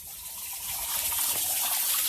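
Water gushes steadily into a car radiator during a coolant flush before head gasket sealer is added, a continuous close rushing pour that grows slightly louder, with no talking.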